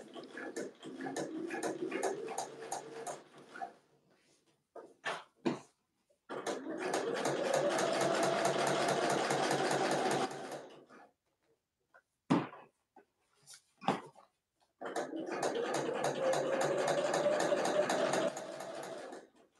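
A domestic sewing machine stitches a boxy bag in three long steady runs of motorized whirring, each several seconds long, separated by pauses with light handling clicks and fabric rustle.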